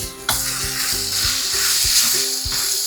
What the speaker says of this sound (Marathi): हे आता आपल्याला छानसं कालवून घ्यायला लागेल